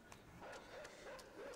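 A dog in the dark side-scrolling game Inside, giving short repeated barks and yips at an even pace over a low, fairly faint background, with no talking.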